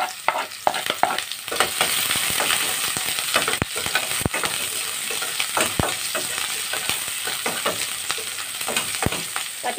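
Garlic and ginger sizzle steadily in a hot pan for Filipino chicken tinola, a dense, close crackle broken by sharp clicks and scrapes of stirring, with no voices.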